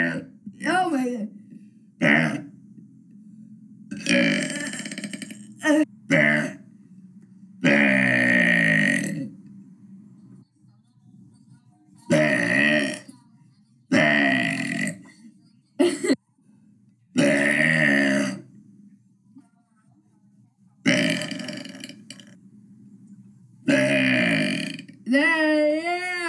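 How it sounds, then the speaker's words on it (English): Loud, long burps after drinking milk come in a series of separate bursts with silent gaps between them, close by and rough-toned. "Oh my gosh, these burps are awesome."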